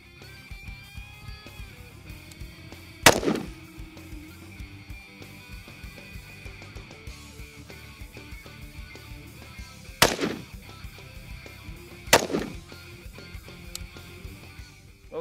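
Three sharp rifle shots crack out at separate moments from a nearby shooter firing at wooden targets outdoors, each loud report followed by a brief echo over faint background ambience.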